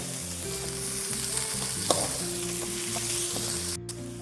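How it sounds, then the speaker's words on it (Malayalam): Onions for Kozhikode-style Malabar stuffed squid sautéing in a pan, a continuous close frying sizzle with stirring scrapes and a steady hum underneath, no talking. "നമുക്കിത് ബ്രൗൺ നിറമാകുന്നത് വരെ നന്നായി ഒന്ന് വഴറ്റിയെടുക്കാം"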